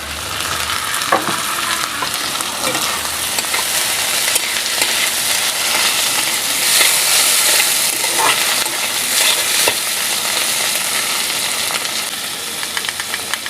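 Chopped onion and tomato sizzle steadily in a hot pan, a loud continuous frying hiss broken by occasional soft stirring scrapes, with no talking.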